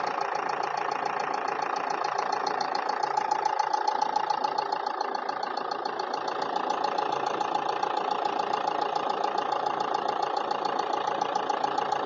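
A 2012 Renault Duster RXZ diesel engine idling, a steady close clattering hum with a fine knocking texture, even and unbroken throughout.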